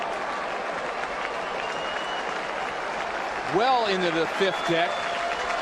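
Large Toronto ballpark crowd roars in a broad, sustained ovation after a Manny Ramirez home run, a steady wash of cheering and applause under an excited play-by-play voice, with a few louder swells toward the end.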